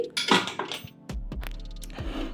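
A metal pressure cooker holding lentils is set onto a stove, giving a few close, sharp metallic clanks and knocks with a short scrape between them.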